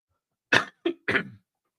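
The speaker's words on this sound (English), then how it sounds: "Clear my throat." Three short, harsh bursts of throat clearing or coughing in quick succession, close and loud, with silence around them.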